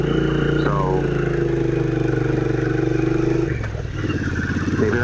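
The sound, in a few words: 900cc motorcycle engine running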